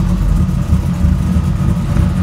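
A GM car engine with an aftermarket camshaft idles loudly and close by, a steady low rumble with a slightly choppy, uneven pulse throughout.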